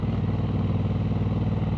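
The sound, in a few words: motorbike cruising along curving road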